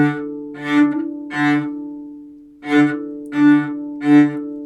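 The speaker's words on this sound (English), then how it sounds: "Remember, if the bow is sliding, it's going to sound like this." A cello bow slides on the string in short, separate strokes, six bursts with gaps between, each buzzy and rich in overtones, with a low hum underneath.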